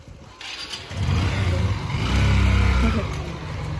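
A motorbike engine starts up nearby and settles into a steady, loud running rumble, with a rise in revs toward the end; no one speaks.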